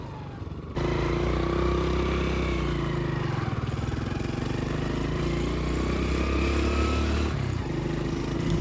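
A Hero Honda Splendor motorcycle is ridden along a road, its engine giving a steady, close, unbroken drone with a slight change in pitch near the start and end.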